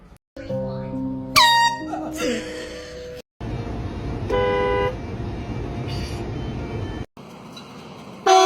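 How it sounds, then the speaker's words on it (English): Loud air horn blasts from a prank, sounding as long harmonic honks that start, cut off abruptly and restart, with a sharp squealing burst near the start and chatter and crowd noise between blasts. "I get why so many people love the air horn pranks."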